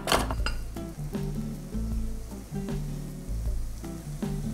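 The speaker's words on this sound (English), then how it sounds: "While the onions and garlic are cooking, also cook the orzo to package instructions." Onions and garlic sizzle and fry in a pan, a steady crackling hiss broken by a few sharp clinks of a utensil against the cookware.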